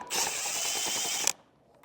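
A ratchet wrench spins off a 15 mm nut on the bumper beam of a 2024 Volvo XC40, giving a fast, steady buzz of clicking pawl teeth, close and loud for over a second before stopping abruptly, then near silence.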